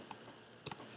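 A few quiet computer keyboard keystrokes, two or three soft clicks spaced over about a second, close and alone.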